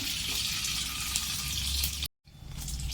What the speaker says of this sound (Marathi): तेल तापलं राई घातली राई तडकल्यावरती मेथी